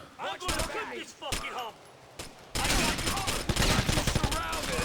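GTA Vice City gunfire in the Nextgen Edition: a few sharp shots first, then a loud sustained burst of rapid fire, with someone talking over the early part.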